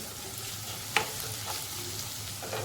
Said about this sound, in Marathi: आपण थोडा कांदा परतून घेतले